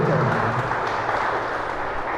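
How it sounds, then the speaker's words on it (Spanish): Steady applause from a congregation during a church service, a thick continuous roar of many hands clapping together, loud and sustained across the whole stretch with no clear talking. "Démosle un aplauso al Rey de Reyes, hermano."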